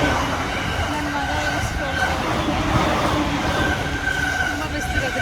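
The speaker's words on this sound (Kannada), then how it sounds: "ಟ್ರೈನ್ ಹೋಗ್ತಾ ಇದೆ." A train runs past in Japan as a steady, broad rumble with faint wheel squeal, continuous for several seconds, with voices talking over it.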